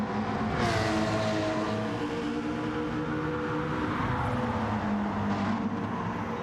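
A McLaren race car in the video game Rallycross GT, its engine droning and revving steadily with shifting pitch sweeps, loud and sustained, mixed with other racing cars and no speech.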